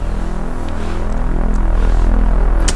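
A deep, low synthesizer pad note at C0 with no reverb, a steady throbbing hum that swells slightly louder and holds alone without voices.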